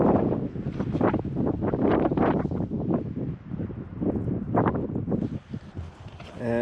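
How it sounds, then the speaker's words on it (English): Strong wind gusts outdoors at a log cabin construction site, a steady roaring rush with surging buffets against the microphone throughout, nearby and loud. "It's a windy one today."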